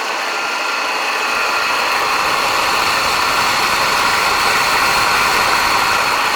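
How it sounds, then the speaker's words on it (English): A Hockmeyer tabletop laboratory dissolver with a 4-inch dissolver blade and variable speed runs as it spins up to a steady, loud motor whine with a broad whooshing hiss, continuous and close, with no talk. "this is a Hockmeyer tabletop laboratory dissolver"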